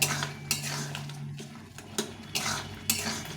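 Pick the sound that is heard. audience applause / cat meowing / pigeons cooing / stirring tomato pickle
stirring tomato pickle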